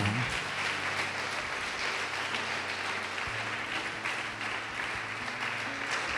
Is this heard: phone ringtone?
no